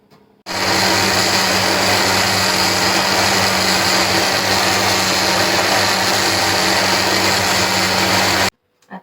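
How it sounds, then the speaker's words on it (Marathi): A mixer grinder blending watermelon runs loudly and steadily for about eight seconds, a dense whirring roar that starts and stops abruptly. "आता बारीक करून घ्यायचं आपल्याला मिक्सरमध्ये"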